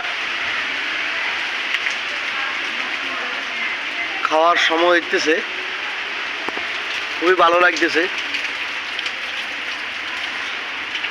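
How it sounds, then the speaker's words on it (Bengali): Steady rain falls over a green village, a dense even hiss that lasts the whole stretch, with someone speaking briefly twice over it. "খুবই সুন্দর বৃষ্টি হইতেছে"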